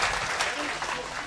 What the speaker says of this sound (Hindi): एक बार ज़रा ज़ोरदार तालियां उनके जश्न के सिलसिले में